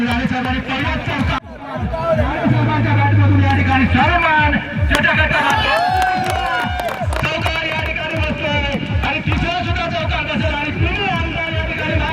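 Crowd of political party workers cheering at a local cricket tournament match, a loud continuous roar of voices and shouts with scattered claps, with speech mixed through the din.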